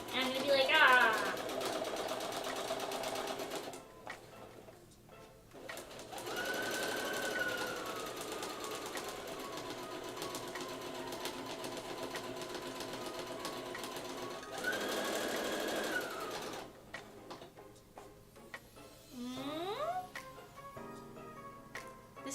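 A sewing machine stitches an outfit in several bursts, its motor whirring with a rapid mechanical clatter close by, separated by brief pauses and a few squeaky sliding sounds.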